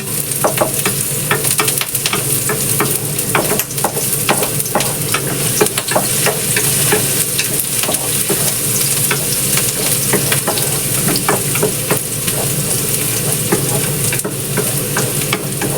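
Garlic frying in cooking oil in a pan as the start of a stir-fried rice noodle dish: continuous close sizzling and crackling with frequent sharp spatters and stirring, steady throughout.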